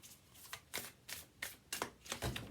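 Oracle cards shuffled by hand in a quiet room, a run of soft papery riffles and slaps in quick bursts, close and fairly faint, with no voice.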